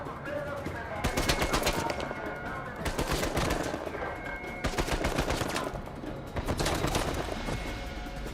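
Video game gunfire crackles in repeated rapid bursts of automatic fire, several loud volleys separated by brief pauses, with talk faintly underneath.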